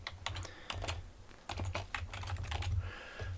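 Fingers type on a computer keyboard in quick, uneven bursts of clicking keys, with short pauses between the runs. The tapping is close and fairly loud, with no talking.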